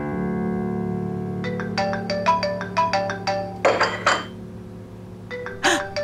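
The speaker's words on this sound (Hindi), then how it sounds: "अज़मी बीबी का फोन है, क्या करूं?" A phone ringtone plays a repeating melodic chime of bright tones in short bursts, loud and close, over a steady low hum, with a brief knock near the end.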